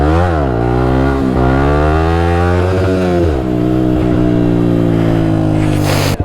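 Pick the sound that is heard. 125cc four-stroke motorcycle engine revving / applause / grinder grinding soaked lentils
125cc four-stroke motorcycle engine revving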